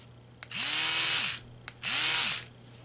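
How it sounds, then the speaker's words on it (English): Oral-B electric toothbrush buzzing in two steady bursts of about a second each with a short pause between, close and loud, no talking. "you want to grab your toothbrush. Alright, I have an Oral-B."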